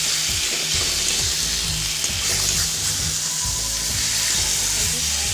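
Potatoes and onions fry with salt and spices in a pan, a loud continuous sizzle with repeated rhythmic scraping strokes of stirring close by, and no voices.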